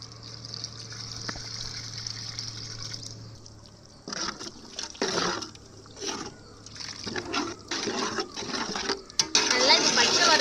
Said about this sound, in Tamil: அது கொஞ்சமாக நம்ம தண்ணி ஊற்றிக்கலாம்.